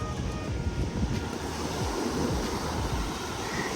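Ocean surf rolls onto a beach in an unbroken wash of noise, waves breaking at a middle distance with light wind buffeting the microphone, with no voices heard.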